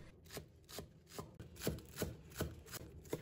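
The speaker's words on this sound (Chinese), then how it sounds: "把葱叶切成葱花" A knife chops scallion greens on a cutting board in about eight crisp, evenly paced strokes, close and clear with no talking.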